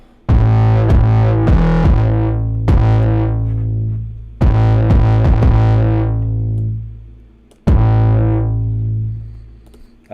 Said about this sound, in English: Add some distortion to it though.